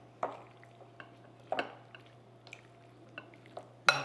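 Seasoned canned beans being stirred into meat in a baking dish for a street taco bake, a few soft wet squishes and light utensil clicks against the dish, quiet and close with no talking.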